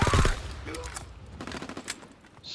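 A rapid burst of gunfire opens loudly in Call of Duty WWII hardcore team deathmatch, then fades into quieter clicks and scattered shots.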